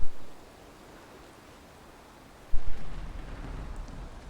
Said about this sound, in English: And coincidentally, there's a storm.